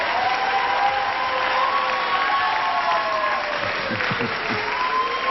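A studio audience applauds on a 1982 NBC daytime Blockbusters game show, a steady, full wash of clapping lasting throughout under a soft background of music-like tones.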